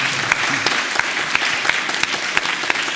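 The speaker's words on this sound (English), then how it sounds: "an applause." Steady audience applause in a forum hall, dense even clapping with scattered sharper claps, filling the whole stretch without voices.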